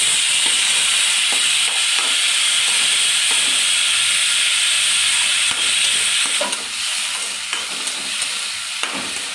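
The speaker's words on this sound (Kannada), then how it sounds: "ಟೊಮೊಟೊ, ಹಸಿಮೆಣ್ಸಿನ್ಕಾಯಿ, ಈರುಳ್ಳಿ, ಬೆಳ್ಳುಳ್ಳಿ ಇದನ್ನೆಲ್ಲ ಎಣ್ಣೆಯಲ್ಲಿ ಫ್ರೈ ಮಾಡ್ಕೊತೀನಿ" Tomato, green chilli, onion and garlic frying in hot oil for sambar, a loud dense sizzle and hiss with repeated spatula scrapes and stirring knocks, close up and steady, easing slightly near the end.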